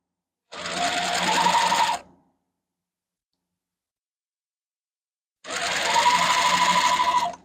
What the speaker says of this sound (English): I'm going to start stitching this